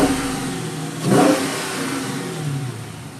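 A Dodge Challenger at a driving competition revs its engine at the start of a run, a loud, close surge that rises sharply and then settles into a steady rumble.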